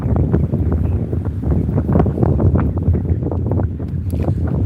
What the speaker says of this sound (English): I'm getting the full force of the wind now